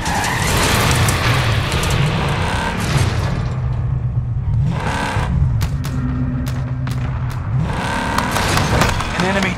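Car driving and skidding in the video game Call of Duty: Modern Warfare, a steady loud engine roar with tire skids and bursts of game effects, mixed under game voices and music throughout.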